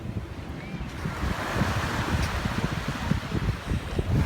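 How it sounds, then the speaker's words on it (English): Steady broadband rush of surf breaking on Waikiki Beach with gusting wind noise buffeting the microphone, a continuous near wash of waves with no voices, lasting several seconds. "enjoy is Waikiki Beach with hardly anyone on it and hardly anyone in the water"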